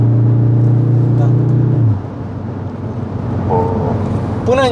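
A Cupra Formentor 310 engine pulls hard under acceleration from inside the cabin, a loud sustained drone that drops away after a couple of seconds into a rougher road rumble, with a brief rising tone near the end.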